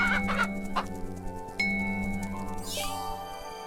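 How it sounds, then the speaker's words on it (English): Chickens in the video game Bee Simulator cluck repeatedly, close and clear, with a few short squawks over a steady ambient background tone. "Ugh, chickens. Horrible, scary things."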